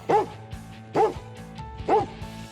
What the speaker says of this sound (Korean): 이쪽에서 어떤 사람이 있다고 판단이 되면 짖어서 저에게 알려주거든요